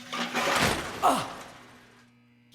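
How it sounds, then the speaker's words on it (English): In the adventure game Runaway 3, a rusty object gives way and falls apart with a loud rattling crash, then a clanking thud and a fading scrape before quiet, with no talking. "That was so rusty it just fell apart."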